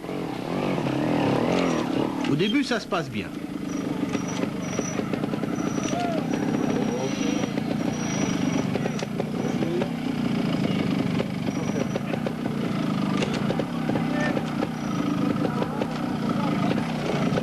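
A Fantic trial motorcycle, an Italian make, runs at a 1988 world trial championship event in Montbrison, France, its engine droning steadily at a moderate distance beneath someone speaking French commentary throughout.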